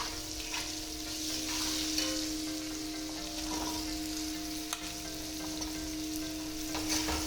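Bottle gourd with potato and green chilli sizzles steadily in a pan, with scattered scraping stirs and light clicks over the continuous frying hiss; no talking.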